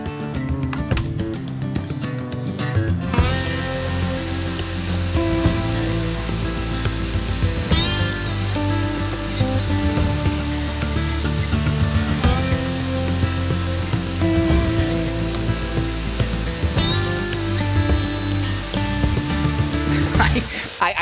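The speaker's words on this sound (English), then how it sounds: "Now I'm going to cut an MDF panel on this guy" A portable table saw rips through an MDF panel, its loud motor roar shifting in pitch as the blade bites, sustained for about twenty seconds after a brief start-up, close to the microphone.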